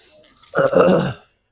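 A Pakistani giribaz pigeon gives one short, low, throaty coo up close, a brief rumble that fades after about half a second.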